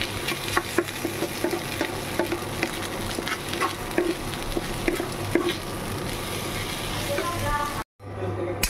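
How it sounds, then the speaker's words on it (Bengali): Soaked rice and dal frying in ghee for khichuri, a steady sizzle with frequent stirring scrapes and clinks close by, ending in a brief silence before the sizzling resumes. "চালটা ভিজিয়ে রেখেছিলাম আধা ঘন্টা আগে তা সেকে হালকা করে ভেজে নিচ্ছি"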